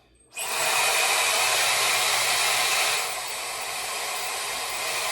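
A Shark hair dryer switches on abruptly and roars with a loud, close, airy hiss, easing slightly in intensity partway through as the setting drops to low heat.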